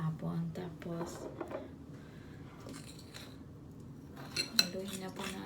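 Banana cake batter being stirred by hand in a bowl, giving repeated scraping and clinking of a utensil against the bowl, fairly close, with a louder burst of clinks near the end while a voice talks throughout.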